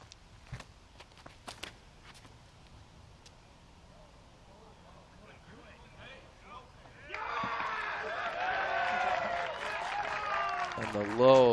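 Spectators at a women's pro disc golf final round at Maple Hill break into loud cheering and applause with whoops, rising out of quieter outdoor ambience with light voices and holding strong to the end.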